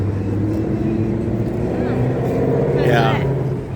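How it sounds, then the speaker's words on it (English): Steady, loud road traffic fills a Tampa street outdoors, with a continuous engine rumble and a passing vehicle swelling near the end, while people talk over it. "we outside, so the cars are coming by, and it's gonna be a little loud"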